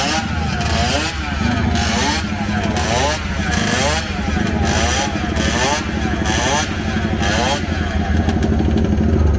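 A Derby 50cc Grand Prix racing motorcycle runs at a classic racing event at Circuit Ricardo Tormo, its small two-stroke engine buzzing loud and close with a rhythmic, pulsing rev that rises and falls while people talk nearby.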